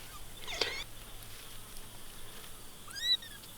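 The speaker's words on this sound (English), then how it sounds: "So for all you that want an update on the kittens, here they are." Kittens give two faint, high meows, one early and one near the end, separated by a quiet stretch of low background hum.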